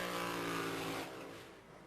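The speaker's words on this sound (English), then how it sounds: "There's the burnout from Dave Wilson." A drag racing car at the 2004 FIA round in Gardermoen, Norway, driven by Dave Wilson, roars loudly and steadily through a burnout, then the engine note drops away after about a second.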